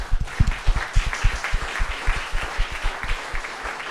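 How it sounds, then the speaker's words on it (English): A small audience at a lecture event gives a round of applause for sponsors, sparse distinct claps in an uneven rhythm, fairly close and moderately loud. "So I just want to give them a round of applause"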